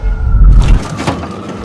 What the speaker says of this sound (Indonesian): Mobil ambulans datang.